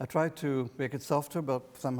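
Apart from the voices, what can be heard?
No everyday noise stands out behind the speech.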